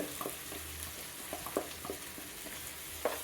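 Curry leaves and ghee sizzle in a pan for a chicken ghee roast over a low flame, a soft steady frying hiss dotted with small crackling pops and light stirring taps.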